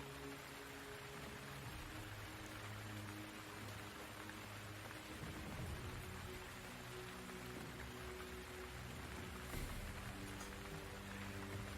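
Steady rain falls close by as a dense, even hiss that holds at a constant level for the whole stretch, with no voices.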